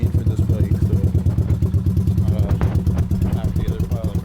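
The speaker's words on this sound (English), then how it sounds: "That's a cold start. Big old super trap exhaust." A Honda 185S motorcycle with a swapped 200 cc 12:1 Chinese piston and a Supertrapp exhaust runs after a cold start, a loud, close, steady thumping single-cylinder putter with rapid even pulses throughout.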